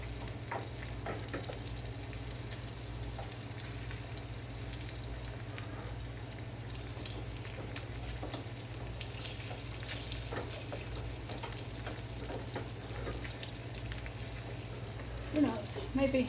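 An egg frying in a skillet for breakfast sandwiches, a steady soft sizzle and crackle throughout, faint and even, with a brief clatter near the end.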